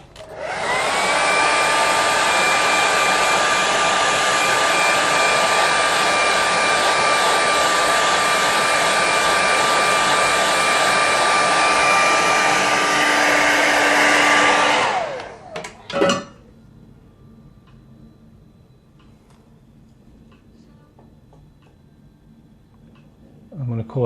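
Hair dryer blowing on a watercolour painting of lakes and mountains, a loud steady whine held close for about fifteen seconds before switching off, followed by quiet handling sounds.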